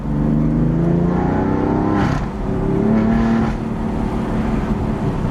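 A BMW F82 M4 with an Eisenmann exhaust revs hard with a deep, throaty exhaust note, rising in pitch twice, close and loud, with no talking.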